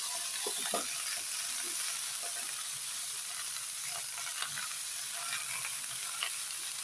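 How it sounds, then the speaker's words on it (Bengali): Food frying in a pan, a steady close sizzle with scattered crackles and occasional stirring scrapes, no voices. "ভালো করে ভেজে নিচ্ছি, খুব ডিপভাবে ভাজবেন না"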